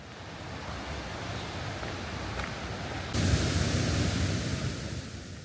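The lower fall of the Marmore waterfall roars as a dense, broadband rush of water, steady and close, swelling louder midway; no voices.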